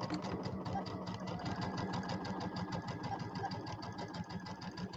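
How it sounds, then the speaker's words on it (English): A sewing machine runs steadily, stitching a quilt block onto a pinwheel block for a table topper; a fast, even mechanical whir with rapid needle clatter, close but fairly quiet, with no talking. "And we're going to stitch this one"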